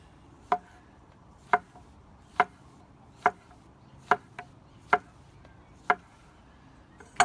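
Knife cutting through star fruit on a board outdoors in an Arizona garden, eight crisp, evenly spaced chops about one per second, close and clear over quiet background.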